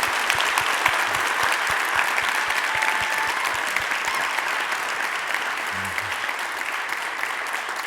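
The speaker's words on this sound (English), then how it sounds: "Let's give Chris another round of applause." Audience applause after a keynote lecture, steady sustained clapping from a moderate-sized crowd, fairly even and continuous throughout.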